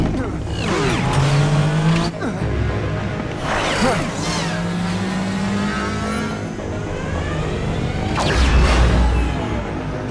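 Futuristic light cycles from Tron Uprising race across a game grid in a life cycle challenge, loud engine-like whines sweeping up and down with whooshing pass-bys, sustained throughout, with talk and dramatic effects mixed in.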